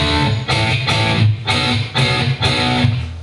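Distorted electric guitar strikes short, punchy power chords in a steady rhythm, each chord cut off sharply before the next, loud and close.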